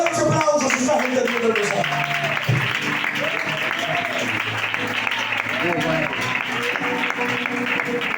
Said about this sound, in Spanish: Dale un fuerte aplauso si estás entendiendo el mensaje.